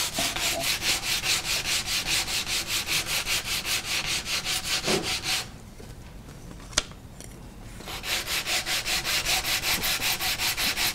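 Hand sanding a wooden decorative placemat, fast rhythmic back-and-forth rasping strokes close up, pausing briefly in the middle with a single small knock before the steady sanding resumes.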